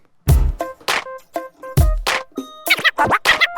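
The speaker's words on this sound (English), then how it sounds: "we're still going to have the fast and slow baby scratch" Baby scratches on a DJ turntable cut into an acapella vocal, with fast and slow back-and-forth record strokes making short chopped vocal bursts in quick rhythmic succession, loud and close.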